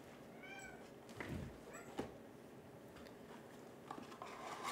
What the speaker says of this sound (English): Does anybody hear this chirping kitty that is behind me?